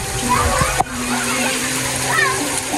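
Water splashes steadily from a shower fountain at Tabing-Ilog Resort in Candelaria, a bright continuous spatter close by, with people talking and a voice over it.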